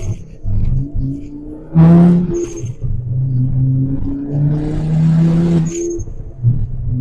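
Car engine with a T3 turbo, 57 area ratio, running about 8 pounds of boost with a slight wastegate dump leak, revving hard in repeated rising pulls with hissy bursts, loud and close.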